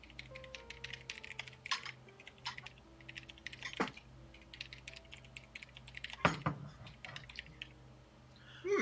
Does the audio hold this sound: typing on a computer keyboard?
yes